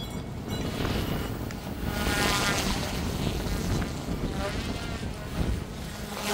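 Strong wind buffets the microphone outdoors while an OMPHOBBY M1 EVO RC helicopter is flown, giving a steady, loud broadband roar that swells and eases across the whole stretch.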